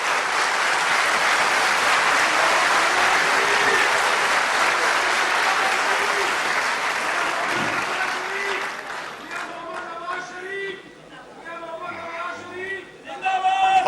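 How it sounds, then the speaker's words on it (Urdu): An audience claps for Shehbaz Sharif at the Multan Metro Bus inauguration, a loud, dense roll of applause for about nine seconds that fades as a voice begins speaking. "ان کے لیے آپ سب لوگ تالیاں بجائیں"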